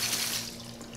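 Water hisses from a spray onto car wheels during a wash, a short steady wet spray close by with no talking.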